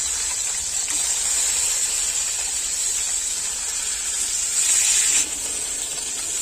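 Chopped tomatoes with black cumin, white cumin and fennel seeds sizzle in hot oil, a steady bright hiss that holds evenly throughout and briefly swells louder near the end.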